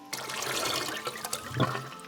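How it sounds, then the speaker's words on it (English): Liquid fish treatment for marine velvet and ich is poured into a 1 gallon container of water, giving a steady close splashing and gurgling pour throughout. "And we're just gonna pour it into the 1 gallon."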